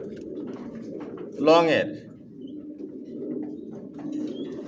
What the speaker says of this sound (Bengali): অরিজিনাল বাঘা গ্রিজেল রেসার ডাউন 7 নর ডিম নিয়ে বসা আছে